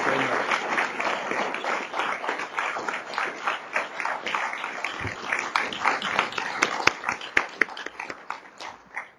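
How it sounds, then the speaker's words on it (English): Audience applause at a Canadian Club luncheon talk, a sustained round of many hands clapping steadily for several seconds, dense and fairly close, thinning toward the end. "I'll ask for a round of applause for Dr. Moore"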